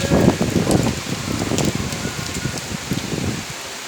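Steady rain pattering on surfaces with scattered heavier drops, a continuous wash of sound with no voices.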